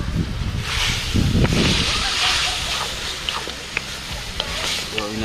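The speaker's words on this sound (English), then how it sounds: "I give it a stir, ensure so you know, hitching in a pot" Beef and pork stew peas stirred in a pot, a close wet scraping and sloshing with a low simmering sizzle beneath, fading to lighter bubbling and clinks, with some talking over it.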